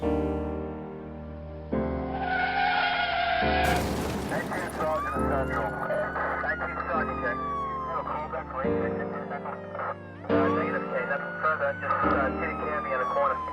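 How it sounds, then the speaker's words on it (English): A wailing emergency siren sweeps up and down continuously, loud and close, with a dense rumble of traffic and crowd noise underneath. "Move aside, let the ambulance through."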